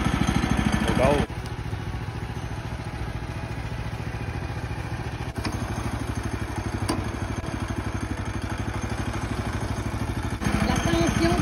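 Gas engine running at a small log sawmill, a steady throbbing chug at close range that keeps an even pace throughout, with people talking over it.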